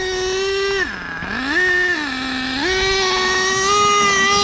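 An Exceed Madstorm RC car with an HPI Savage engine makes a loud, close speed run. Its high, buzzy engine whine dips and climbs in pitch as the throttle changes.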